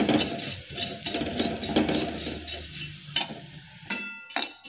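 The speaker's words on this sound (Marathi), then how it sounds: "त्यानंतर आपण जाडपोहे भाजून घेणार आहे।" Thick poha being dry-roasted in a pan and stirred, producing dry rustling scrapes and light clinks of the spoon against metal in uneven bursts, close and moderately loud, with no speech.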